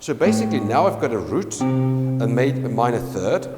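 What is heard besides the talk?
No everyday noise stands out behind the speech.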